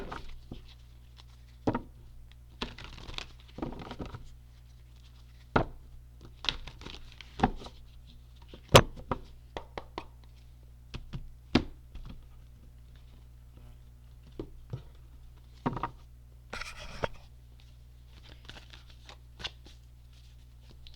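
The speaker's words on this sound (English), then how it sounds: "this is pre-shuffled, so I'm only going to shuffle a few times here." A pre-shuffled deck of cards gets a few quick shuffles, giving soft, sporadic riffles and taps close by on a quiet background, with no talking.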